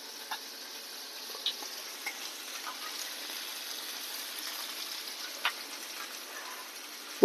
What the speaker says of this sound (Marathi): छानशे फ्राय करूया. ह्याला शालो फ्राय म्हणतात.